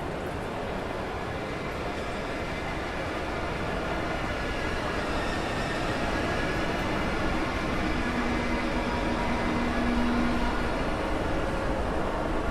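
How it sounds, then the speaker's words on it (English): An ICE3 BR403 high-speed train in Train Sim World 5 stands at a station platform, giving off a steady, fairly loud rail hum and rumble that continues unbroken throughout, with a faint tonal whine rising near the end. "here's our train on platform 4, right on time"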